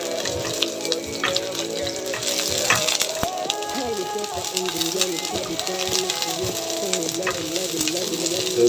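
Onion added to hot oil in a pan, with a steady sizzle and occasional ladle stirring running under a person talking nearby throughout.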